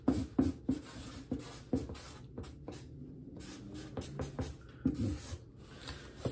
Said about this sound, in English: We're gonna write the words fragile,